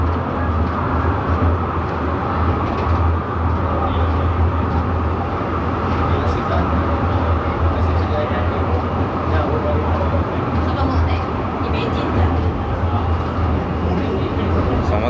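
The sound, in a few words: Penang Hill funicular tram moving uphill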